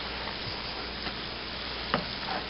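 Macaroni and cheese being stirred in a pot for a hot dog and mac-and-cheese meal, a soft continuous scraping and sizzling texture with one sharper scrape of the spoon near the end, no talking.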